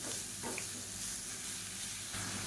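Sautéed onions and grated carrot sizzle in a pan with a steady hiss, and a spoon occasionally scrapes as the mixture is stirred. The sound is close and fairly quiet, with no voices.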